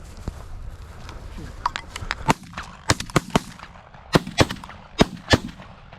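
Shotgun shots at geese during a Labour Day goose hunt: a series of sharp, loud cracks come in quick clusters over an outdoor background, with faint voices underneath.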